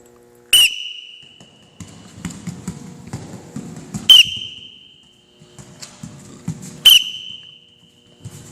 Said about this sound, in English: When I blow the whistle, you switch directions.